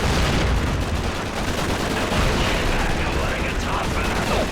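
Dense, continuous gunfire from the PS2 World War II shooter Call of Duty: Finest Hour-era title Final Fronts, with overlapping rifle and machine-gun bursts filling the whole stretch loudly and without pause.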